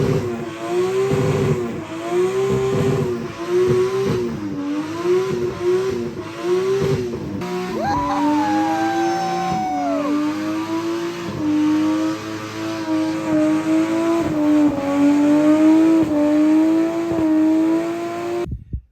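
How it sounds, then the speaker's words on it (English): Nissan R35 GT-R drift car held in a long burnout, its engine revving hard and steadily with rising and falling pitch, with tire squeal near the middle, loud and close with no talk. "I did a fucking nasty burnout, like a 2-minute burnout on this thing"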